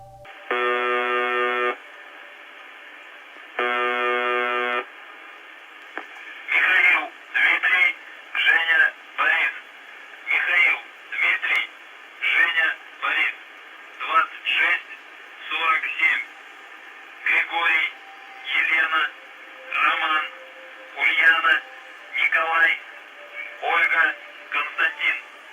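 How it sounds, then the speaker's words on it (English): Shortwave broadcast from the UVB-76 number station: two long steady buzzer tones, then a rapid run of short regular bursts, like a distorted radio voice or signal, over a constant hiss, loud and with no one talking. "UVB-76 sounds like this."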